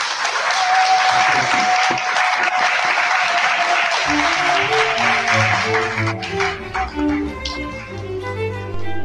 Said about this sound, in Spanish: Un aplauso para el doctor, por favor.